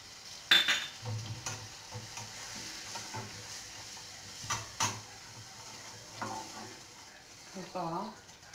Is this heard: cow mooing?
no